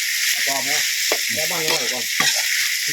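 Pork stir-frying with store-bought curry paste in a pan, a constant sizzling hiss running beneath someone talking in the foreground through most of the clip.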